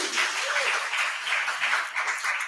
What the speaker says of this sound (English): We're going to applaud for that.